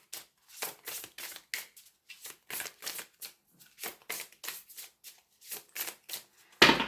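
Tarot cards being shuffled and cut by hand, a run of quick riffling bursts in an uneven rhythm, close and fairly soft, with a louder clack at the end and no talking.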